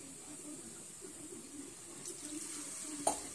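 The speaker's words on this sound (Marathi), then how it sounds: "मी थोडंसं त्यात रस्सा बनवणार आहे, त्यामुळे थोडे आणखीन पाणी घालत आहे" Water runs steadily into a pan of stuffed brinjal curry being made into a rasssa gravy, a soft continuous pour under faint sizzling with a small knock near the end.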